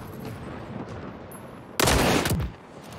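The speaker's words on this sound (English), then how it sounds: "let's see if I can get some really long range shots before the end of the round" A single loud, sharp sniper rifle shot from a heavy 14 kg rifle in a video game cracks out over quiet ambient game noise, then tails off quickly.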